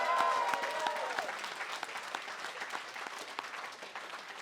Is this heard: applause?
yes